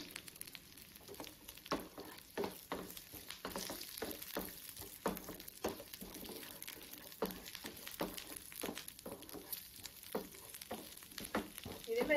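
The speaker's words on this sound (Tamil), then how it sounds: "இது நல்லா வந்து இந்த எண்ணெயிலே வதங்கட்டும்." Urad dal, chana dal and curry leaves sputter in oil over a medium flame, giving quiet, continuous frying with repeated crackles and light stirring throughout.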